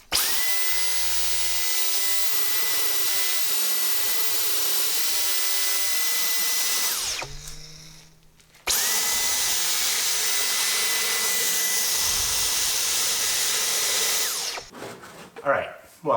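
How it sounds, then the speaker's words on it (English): A vacuum cleaner runs over the floor carpet inside a Datsun 280Z with a steady whining drone. It cuts out briefly, starts again, then stops near the end, where a few handling noises follow. "might as well vacuum it up and make everything nice and clean"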